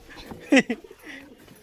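A pigeon in a pigeon loft gives a single brief, close coo among faint background murmurs and a quiet voice.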